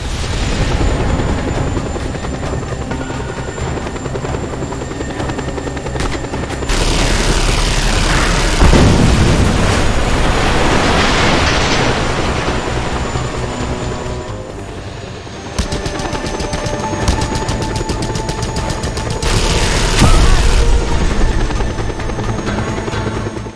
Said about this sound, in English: And of course there's another helicopter coming in.